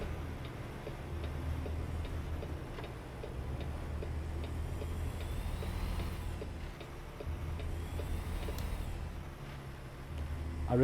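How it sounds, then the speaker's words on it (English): A truck in American Truck Simulator idles with a low, steady engine rumble while a quiet, regular clicking like a turn indicator ticks through the whole stretch, with no talking. "I really do like the sound of this truck."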